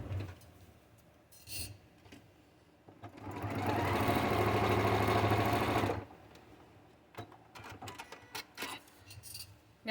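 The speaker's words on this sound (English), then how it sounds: "Take it to the sewing machine and stitch along that line." A sewing machine runs in one steady burst of about three seconds, stitching paper-pieced fabric along a foundation line, with quieter handling noises and soft bumps before and after.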